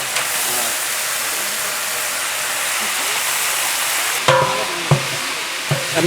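Bay leaves and whole spices such as cinnamon and cassia sizzle in hot oil for a village wedding chicken biryani, a steady frying hiss throughout with a few sharp clatters near the end.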